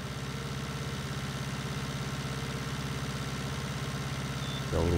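A tractor engine in Farming Simulator 2019 idles with a steady low throbbing pulse, then revs up louder near the end, close and continuous with no talk over it.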